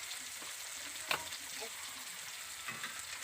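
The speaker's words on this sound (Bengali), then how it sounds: "এবার আমি সব কিছু ভালোভাবে একসাথে কষিয়ে নিচ্ছি।" Spice masala with turmeric, cumin powder, chopped tomato and salt fries steadily in a pan, a soft continuous sizzle with a few spoon scrapes and one sharper clack while it is stirred.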